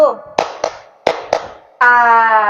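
During a classroom clapping game, a single sharp clap stands out between stretches of a woman's speech, with her voice continuing after it.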